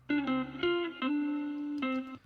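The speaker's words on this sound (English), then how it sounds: "People will stretch a sample to try and fill a gap like that." A buzzy, harmonic tone holds and shifts pitch in a few stepped segments, with an artificial, smeared quality like a stretched sample.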